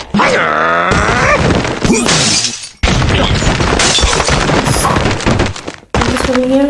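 Crashing explosions and shattering blocks in Angry Birds burst in several loud, chaotic bursts separated by brief cutoffs, mixed with creaks and groaning game effects.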